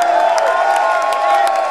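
A concert crowd at a show cheers and applauds, a brief dense wash of clapping and whoops with voices rising through it.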